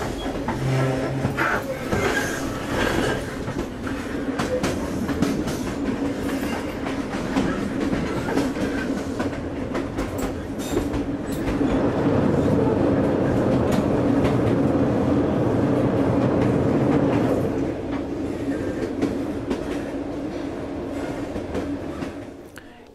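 A model railway train runs steadily in a railway museum exhibit with a continuous rolling rumble and rhythmic clickety-clack, loud and close throughout.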